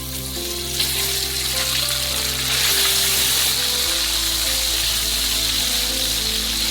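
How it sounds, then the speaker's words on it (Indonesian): Chicken pieces frying in oil in a pan, a continuous close hiss and sizzle that swells partway through, with no talk. "Lalu goreng ayam terlebih dahulu."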